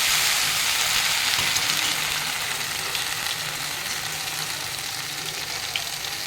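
Prawns sizzle and fry in a hot pan with spiced masala, a steady broadband crackle that holds fairly loud and even throughout, easing slightly toward the end, with no voices over it.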